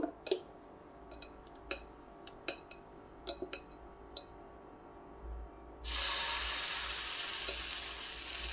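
Moong dal and paneer chilla batter hits a hot pan with a sudden loud, steady sizzle after scattered light ticks and clinks, filling the close space with a bright hissing wash.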